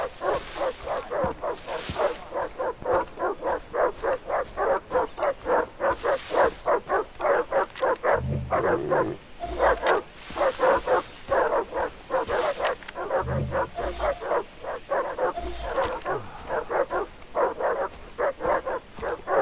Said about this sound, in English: These dogs are gonna get annoying.